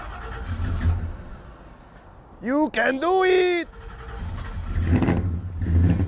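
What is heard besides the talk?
old Ford Ranchero engine starting and running, belt squeak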